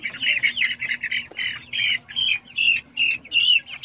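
Native chickens crossed with Chinese Silkie squawk in a quick series of sharp, close calls, repeated bursts one after another with a faint low hum underneath.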